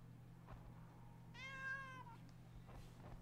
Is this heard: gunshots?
no